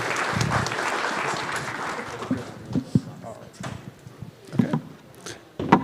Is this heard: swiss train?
no